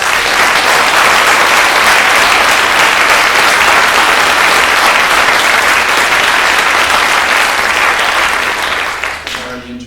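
An audience applauds at a live concert event in Whitby, Ontario, with dense, loud clapping that holds steady for several seconds before starting to fade, and a voice begins speaking at the very end.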